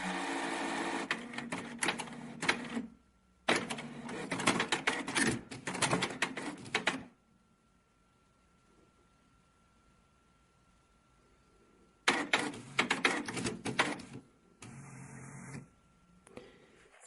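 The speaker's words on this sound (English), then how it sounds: "Waiting for the carriage to move to the position where I can remove the printhead." A Canon inkjet printer's carriage whirs and clatters through two bursts of mechanical movement, close and moderately loud, separated by several seconds of near silence before the motor noise resumes.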